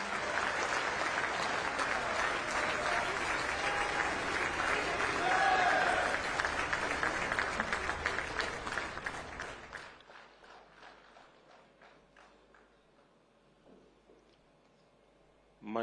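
Large audience at the Vibrant Gujarat Global Summit's 20-year celebration applauding loudly for about ten seconds, then thinning to scattered claps and fading into near quiet.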